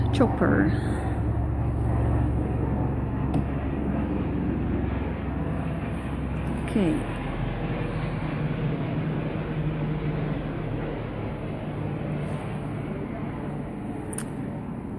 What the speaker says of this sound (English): that chopper is making a lot of noise,